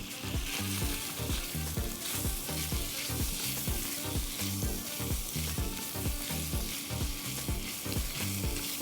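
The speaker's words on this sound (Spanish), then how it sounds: "Es momento de agregar mi cebollita." Sliced onion fries in a pan with a steady, close sizzle and rhythmic crackle that stays even throughout, with no voices.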